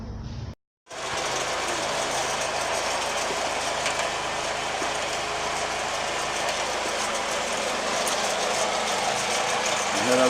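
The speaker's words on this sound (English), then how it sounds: "Here are the pelleting machine." A home fish feed pelleting mill runs loud and steady with a dense mechanical roar and engine-like hum, broken only by a brief cutout near the start.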